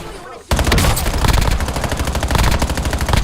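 Rapid automatic gunfire in a war video game bursts in after a brief quiet moment and keeps up a dense, loud, rattling stream of shots, with a voice speaking faintly underneath.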